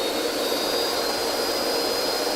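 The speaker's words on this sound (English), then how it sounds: "we'll use the big boy bandsaw" A big silver bandsaw runs in the corner of a garage, giving off a loud, steady motor roar with a faint high whine that holds unchanged for the whole short stretch.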